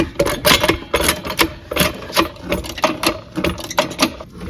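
A car jack raises a Hyundai i30 with a steady run of rapid mechanical clicks and ratcheting at close range, loud and rhythmic throughout with no talking.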